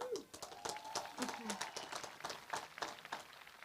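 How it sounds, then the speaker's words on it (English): Graduation ceremony audience at Fairchild Wheeler Magnet High School applauding, a continuous crowd clapping with scattered cheers and voices mixed in throughout. "let's take a moment to give a round of applause to everyone here"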